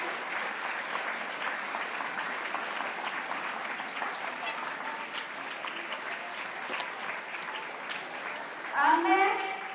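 Audience applauding to welcome a guest speaker at an event, continuous even clapping from a sizable crowd that swells briefly near the end, with a voice heard underneath.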